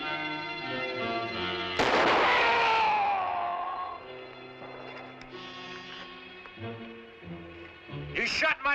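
A single rifle shot cracks out in a 1957 frontier Western adventure, sharp and loud, then rings away over a sustained orchestral score.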